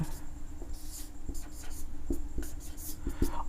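Marker or chalk writing on a classroom board during a maths lesson, a steady near scratching with short sharp strokes and taps, no talk over it.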